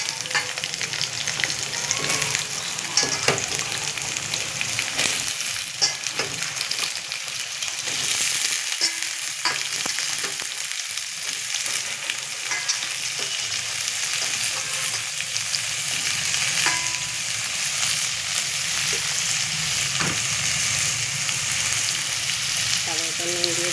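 Potatoes fry in a pan with a loud, dense, continuous sizzle that holds steady throughout, with occasional stirring clinks, close up, and a voice talks briefly over it.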